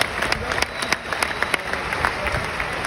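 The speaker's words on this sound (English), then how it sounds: "give him a nice round of applause" Audience applause at a convention talk, a brief round of moderately loud clapping with some crowd murmur beneath.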